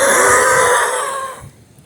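A congested, sick person clears phlegm from the throat in one rough, gravelly rasp lasting over a second, close and fairly loud, then fading into quiet.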